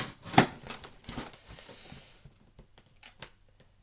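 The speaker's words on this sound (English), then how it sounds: "I'm going to take this little knife and I'm going to cut open this package." A small knife slices open a package, with a few sharp scraping cuts and soft crinkling of the wrapping, close and fairly quiet, separated by short pauses.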